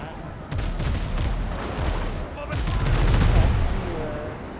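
Cannons on the front of a ship fire in a pirate video game, bursts of heavy gunfire-like booms that come in two rolling barrages, loud and close, with game noise underneath.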